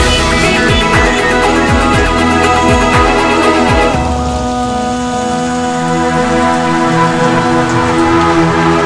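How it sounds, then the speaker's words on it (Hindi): Heavy rain pours steadily outdoors, a loud, continuous hiss of drops striking surfaces, with faint rumbles mixed in and no voices. "बचपन याद कर लो, बारिश को एंजॉय करो।"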